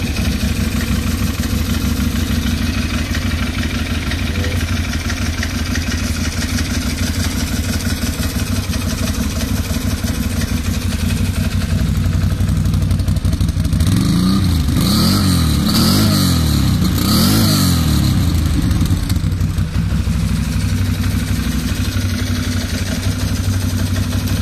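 A Can-Am 650 motorcycle with a faulty solenoid idles with a loud, steady, close rumble, then revs in several quick rising and falling bursts before settling back to idle.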